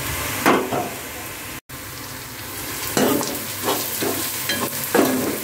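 Spice masala of garam masala, cumin and coriander powder sautéing in a pan for dhaba-style methi malai matar, a soft steady sizzle broken by several scraping stirs, close and fairly quiet with no talk.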